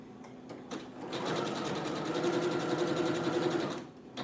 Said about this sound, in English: I'm gonna be running a zigzag on this now